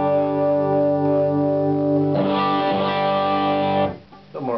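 Electric guitar through a Paul Cochrane Tim overdrive pedal with a knob pushed in, a sustained chord ringing before a thicker, grittier strum takes over and cuts off near the end.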